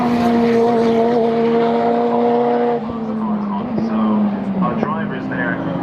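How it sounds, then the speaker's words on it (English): Time Attack race cars roar past at high revs on the Brands Hatch circuit, engines whining and then dropping in pitch as they pass, loud and close with a voice underneath. "these are like the fast Time Attack cars coming around now"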